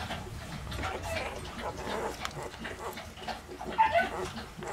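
Newborn puppies whimper and squeak faintly amid soft rustling, with a few brief high cries near the end.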